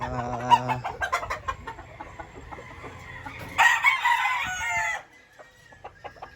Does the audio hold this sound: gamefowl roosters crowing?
yes